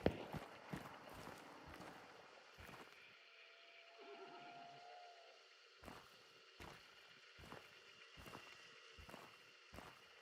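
In a shooter video game, a horse whinnies and its hooves clip-clop in quick rhythmic bursts, sharp hoof strikes at the start and again in a steady run toward the end, with a quiet, mostly empty stretch between.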